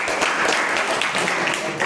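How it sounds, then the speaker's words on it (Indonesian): Students in a classroom etiquette session applaud briefly, a dense burst of hand clapping with faint voices mixed in. "silakan tepuk tangan ya"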